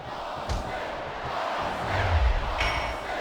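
Crowd noise in the wrestling video game WWE SmackDown vs Raw 2008 at an Elimination Chamber match, a continuous arena roar with a few thuds and a swell near the end.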